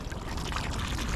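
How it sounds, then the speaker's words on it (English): Water let out of a DIY live bait tank, a short rough gush of pouring and splashing, close and fairly loud, with no talk over it. "let all that water out."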